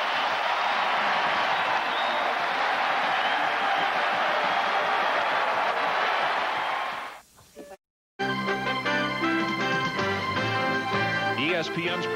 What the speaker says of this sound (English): They are standing and they are cheering